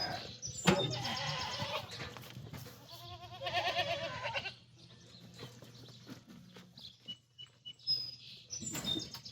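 Several goats bleating on a farm on castration day, repeated wavering calls that stand out over steady ambient noise, fairly close and loud in bursts, with faint chirps mixed in.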